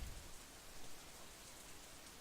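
Steady rain hiss in the visual novel game Katawa Shoujo, a faint, even wash of falling rain heard alone with no voices, holding a constant level throughout.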